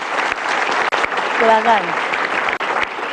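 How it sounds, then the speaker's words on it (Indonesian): An audience at a talk show about finding a soulmate breaks into a short, lively round of applause, with a person speaking briefly over the clapping. "Oke, tepuk tangan lu dong buat Rodian."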